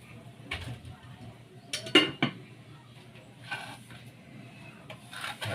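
A cooking pot is washed in a kitchen sink, with sporadic metallic clanks, scrapes and rubbing close by, including a couple of sharper knocks and some quieter scrubbing between them.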